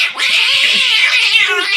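A human voice mimics a snarling, yowling cat in one loud, continuous caterwaul, close and strained, with a wavering pitch.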